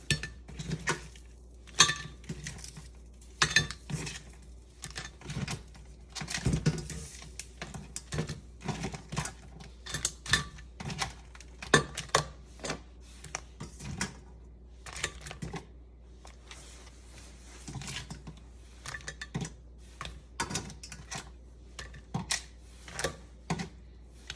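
Dungeness crab roasted with blood orange being moved into a serving container, with a steady run of close, sharp clinks and taps of shells, dishes and utensils, busy and irregular with no talking.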